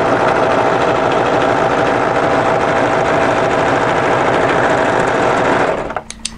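An overlocker stitches the raw edge of a short sleeve hem on a draped tee dress, a loud steady mechanical whirr with a fast rhythmic chatter running continuously for about six seconds before stopping abruptly.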